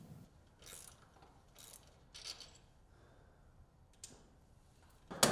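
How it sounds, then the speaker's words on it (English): Faint, sparse ratcheting clicks in short bursts as a tool works the lower ball joint fastener free from the bearing carrier on a 2024 Polaris RZR XP, heard close in a quiet space. "Next, remove the lower ball joint fastener from the bearing carrier."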